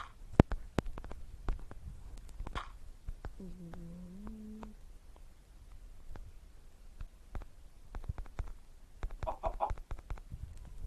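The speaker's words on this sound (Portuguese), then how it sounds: "E eu vou matar essa galinha que tá ali." Chicken clucking in the Craftland Minecraft-style video game, a short brief call amid scattered game clicks and footstep-like taps, fairly faint with no talk over it.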